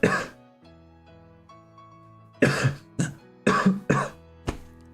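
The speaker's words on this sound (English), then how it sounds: "Brutal coughing attack." A person breaks into a harsh coughing fit, several loud, close, rapid bursts clustered over a couple of seconds, following a stretch of quieter tonal background sound, likely from a televised football game.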